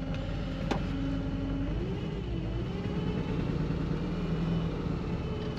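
A Volkswagen Vanagon engine runs roughly after a cold start at about -24°C in Alaska, struggling and wanting to die as the clutch is let out, giving a steady loud close-up rumble with the pitch sagging and wavering.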